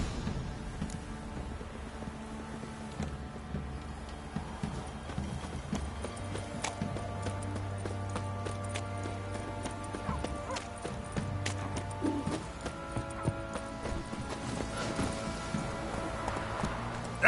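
In The Witcher 3, the horse Roach gallops with steady rhythmic hoofbeats, a brief whinny and ambient outdoor sound layered under the running clip-clop.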